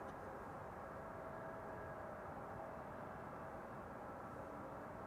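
A DHL cargo plane moves at Amsterdam Schiphol Airport, its jet engines a constant, even roar that stays distant and fairly faint throughout without any change.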